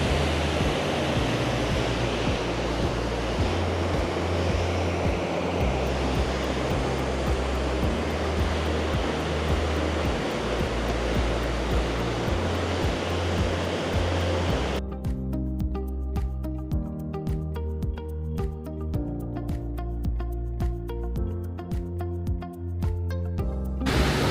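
Loud, continuous roar of water rushing at a dam near Yellowstone, a dense, unbroken wash of noise heard up close that turns slightly thinner and more crackling partway through, with no voices.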